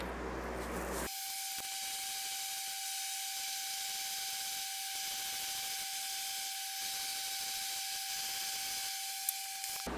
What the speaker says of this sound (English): now we're gonna spray the speaker boxes with some gloss white lacquer